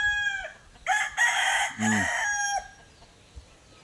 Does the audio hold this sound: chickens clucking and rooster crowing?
yes